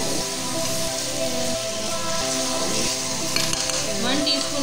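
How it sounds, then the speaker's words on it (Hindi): Three or four tomatoes frying in a pan for Chettinad chicken curry give a steady, dense sizzle with occasional stirring scrapes, close and continuous, with no talk. "ये टमाटर मैंने शामिल कर दिए। इसको भी मैं अच्छी तरह से फ्राई करूंगी।"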